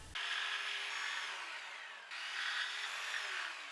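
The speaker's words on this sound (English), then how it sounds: "Then I cut them with the jigsaw, making sure to stay well away from my line to account for the chip out the jigsaw creates." A jigsaw cuts notches in a melamine countertop, buzzing loudly and continuously in two sustained passes with a brief pause between them, near and without talk.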